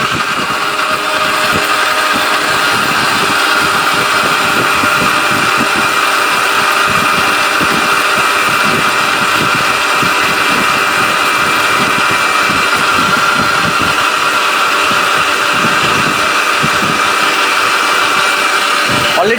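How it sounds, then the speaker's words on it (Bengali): A Briko Tufan electric blender grinds chillies with water, its motor running loud and steady with a constant whirring drone that barely changes over the whole stretch. "আমরা ব্রিকো ব্লেন্ডার তুফান"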